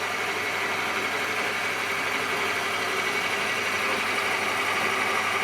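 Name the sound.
metal lathe spinning stock on test run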